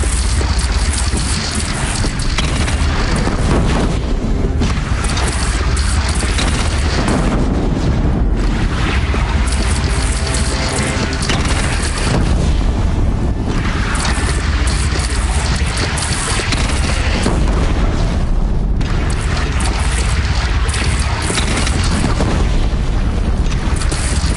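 Cannon blasts and explosions in Horizon Zero Dawn rumble continuously, with loud booming impacts layered over a dense, roaring battle din that never drops away.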